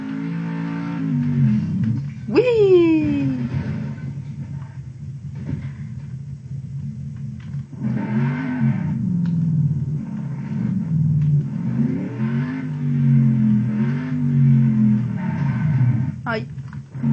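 Car engine in the Next Car Game demo, a low rumbling drone with occasional revving swells that runs steadily beneath someone talking throughout.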